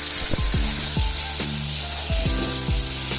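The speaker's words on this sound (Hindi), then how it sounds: "जिंजर गार्लिक पेस्ट, अभी इसको अच्छे से मिक्स करेंगे ऑनियन के साथ" Ginger garlic paste stirred with onions in a hot pan for desi chicken curry, a loud, steady sizzle broken by repeated scraping knocks of the spatula against the pan at an uneven pace.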